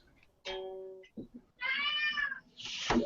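A house cat meows close by, a clear short mew followed by a longer, drawn-out meow and a final shorter cry, with brief murmurs of people talking in between during an indoor live show.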